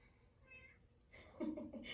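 A house cat meows faintly a couple of times in a quiet room, with soft breathy sounds and a brief burst of louder voice-like noise near the end.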